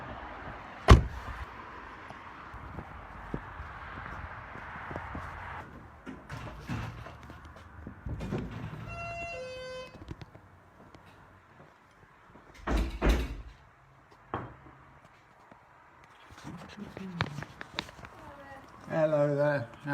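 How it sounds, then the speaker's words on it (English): A car door is opened and shut outdoors, with a sharp thud early and another solid knock later, mixed with traffic and footsteps; someone talks briefly between the impacts. "let's see if we can get out of the car without getting the door taken off"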